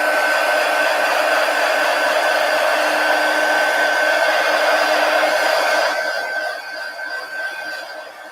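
A hair dryer blows steadily on a paper collage set with matte medium, a loud continuous whirring hiss that runs alone for about six seconds before the motor winds down and fades.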